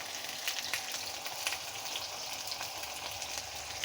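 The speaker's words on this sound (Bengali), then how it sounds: "দিয়ে আলুটা সুন্দর করে লাল লাল করে ভেজে নেব।" Cut potatoes frying in oil with salt and turmeric, a steady close sizzle with light crackling that runs evenly throughout.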